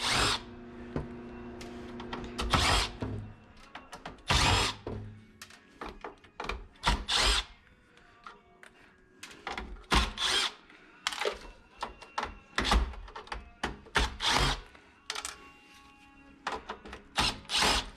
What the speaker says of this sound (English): I use this impact driver, Milwaukee, with a bigger battery on it